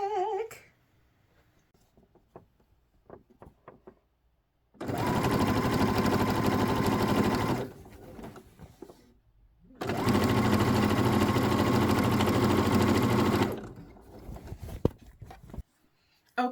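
Sewing machine stitching through denim while upcycling jeans, two long steady runs of fast motor-driven whirring separated by a pause, with small clicks and handling noises around them.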